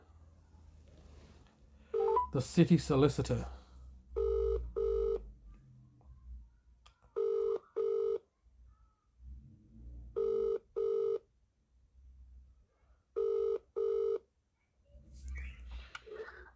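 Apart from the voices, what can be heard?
telephone dialing tones and ringing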